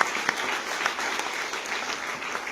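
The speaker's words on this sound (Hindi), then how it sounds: "हम चाहते हैं हमारे सभी सीनियर के सम्मान में एक बार जोरदार ताली हो जाए" Loud, dense audience applause fills the room steadily from start to finish, a continuous wash of many hands clapping at a seminar-style gathering.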